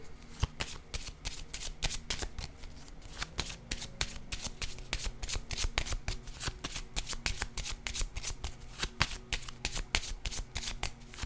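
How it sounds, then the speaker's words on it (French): Tarot-style cards handled during a card reading, a long run of crisp rapid shuffling riffles and flicks, steady and close, with a faint voice in the background. "Je vais déposer une carte ici."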